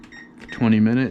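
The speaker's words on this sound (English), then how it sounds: "Set the timer." An oven control panel is set with a short electronic tone, a single sustained beep rising clearly in a quiet kitchen after a few faint button clicks.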